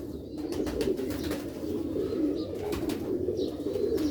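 Sialkoti pure pigeons, a breed kept with their chicks, coo close by in a soft, steady low murmur, with a few faint chirps over the continuous throaty rumble.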